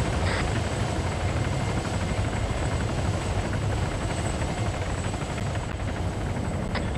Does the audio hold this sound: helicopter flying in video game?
yes